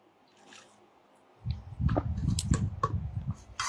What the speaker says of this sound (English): Let me just have a drink of water